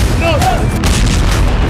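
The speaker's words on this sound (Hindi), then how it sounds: "उसके बाद धमाके होते हैं।" Loud, booming blasts over heavy low rumble from explosions on a cargo ship, with a sharp crack midway and a voice talking over the noise.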